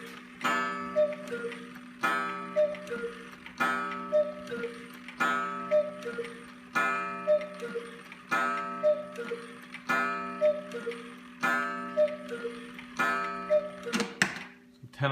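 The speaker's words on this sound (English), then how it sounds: "10 o'clock by the Cuckoo's Call, followed by another musical tune." An antique musical cuckoo clock with a hunter motif, dating from around 1890 to 1900, ticks steadily in a repeating pattern while soft chime tones ring with each beat, followed by a louder flourish near the end.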